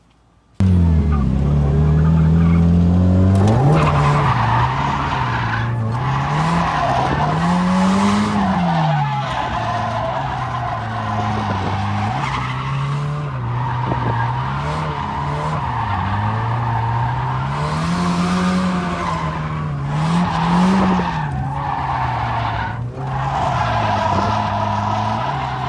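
A drift car at a drift event skids through corners, its engine note rising and falling while tires squeal and scrub loudly and continuously up close for the whole stretch, with no one talking.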